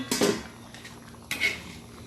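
Metal pot lid clattering against the rim of a pot of chicken congee, two distinct clanks spaced about a second apart, close and fairly loud with no talk.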